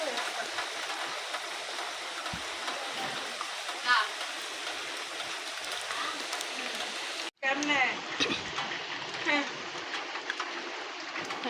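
Steady rain pours outside a home, a dense continuous wash of hiss that cuts out for an instant partway through and then resumes, with voices talking faintly over it.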